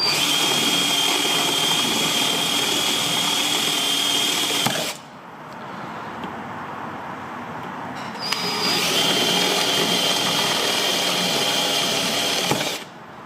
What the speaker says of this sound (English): I'm just drilling them one side at a time here